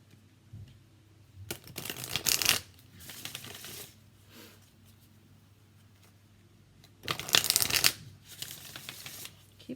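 Colette Baron Reed Enchanted Map Oracle cards being shuffled in two loud bursts of riffling and flapping, each lasting about a second, with quieter handling sounds between them.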